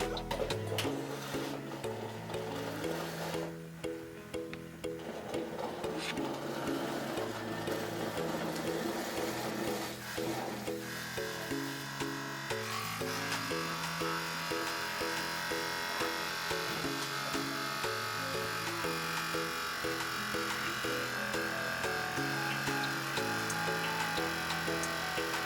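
An electric makeup brush cleaner spins a makeup brush with a steady, continuous motorized whir that runs alone at a constant level throughout.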